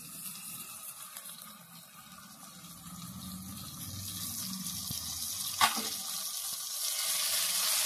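Crushed onions fry in a pan with a steady, soft sizzle that slowly grows louder, with one brief utensil clink partway through.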